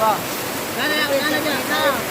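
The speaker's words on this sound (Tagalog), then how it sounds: "Lumalakas na lalo yung ulan." Heavy rain pours down on a farm during a thunderstorm while floodwater rushes past, a dense, steady wash of noise throughout that swells slightly partway through.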